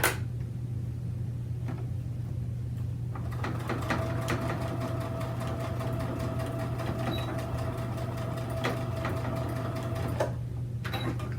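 A sewing machine stitches a zipper into a cosmetic bag, including a back stitch. It gives a steady, close mechanical whir with rhythmic needle ticks over a low hum, and stops near the end.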